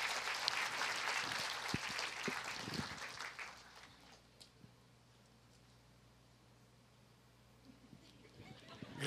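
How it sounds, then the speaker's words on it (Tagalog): Congregation clapping during a church worship service, a dense burst of applause for the first few seconds that thins out and fades, leaving a quiet room with a steady low hum. "Palakpakan mong Lord, the best na palakpak kay Lord."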